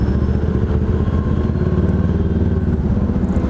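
An inline-four big bike motorcycle engine runs close and loud with a smooth, even mid-pitched drone, steady throughout without talk.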